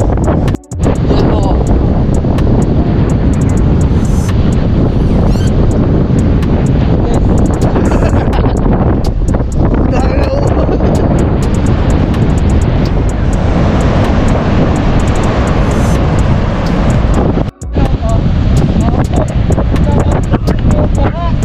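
Strong wind buffets the microphone in a loud, roaring, unbroken rush at Cape Reinga, New Zealand, with voices partly buried beneath it.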